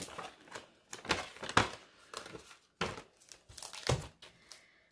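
Paper banknotes are slid into a paper budget envelope, making close crinkling and rustling that swells in several soft bursts, with papery scrapes and crackles between them.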